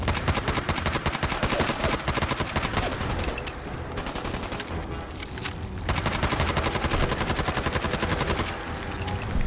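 Rapid automatic gunfire from a gun in Fallout 4 hammers away in loud sustained bursts, with a short gap near the middle before the firing resumes, and no talking over it.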